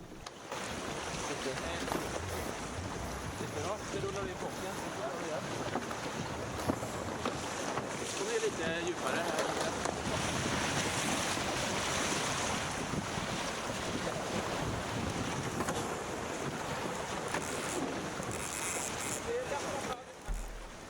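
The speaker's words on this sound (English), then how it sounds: "And we have Bosse steering the boat" Steady rushing wind and splashing waves against a racing sailboat in Marstrand, loud and continuous, with occasional voices faintly mixed in.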